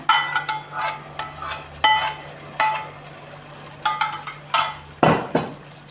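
A spoon scrapes and clacks against a pan in quick irregular strokes, stirring eggplant stewing in sour cream, with a faint steady hum underneath.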